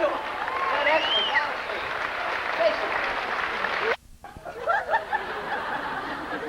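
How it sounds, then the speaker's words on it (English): Tour audience applauds after a stunt show demonstration at Universal Studios in 1989, a steady crowd clapping with some laughter and voices mixed in that cuts off abruptly, then resumes more sparsely. "How about a big round of applause?"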